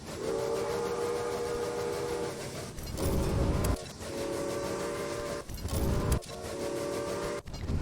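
A Berkshire steam locomotive in the Railway Empire video game gives repeated long steam whistle blasts, broken by short gaps, over the steady rumble of a moving mixed train.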